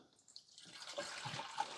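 White vinegar poured into the water reservoir of a Gourmia 12-cup grind and brew coffee maker, a soft, faint trickling liquid pour lasting a second or two.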